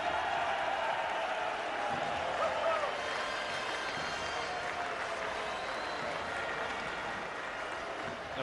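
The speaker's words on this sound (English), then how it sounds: "Applause for the two batsmen who are coming off the park, particularly Niall O'Brien" Cricket crowd at a World Cup match, Ireland v Pakistan in 2015, applauding two batsmen as they walk off the field; a steady, broad wash of distant clapping that fills the whole stretch without breaks.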